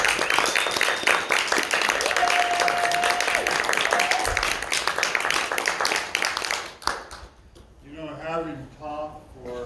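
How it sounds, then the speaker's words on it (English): An audience applauds the guests with brisk, fairly loud clapping for several seconds before it fades out and a voice starts speaking. "You Can want we to give a round of applause for these guys?"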